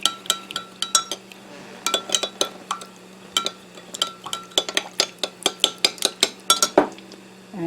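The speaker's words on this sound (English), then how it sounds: "we're just going to mix that up a little bit." Spoon clinks and scrapes repeatedly against a bowl while a shrimp and grits topping is mixed, a steady run of close, sharp metallic taps with brief pauses, no talking.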